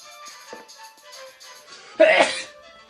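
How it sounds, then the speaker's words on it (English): A single loud sneeze bursts out after a stretch of quiet, indistinct background murmur and muffled talk, standing out sharply for about half a second before fading. "I've sneezed during the middle of it"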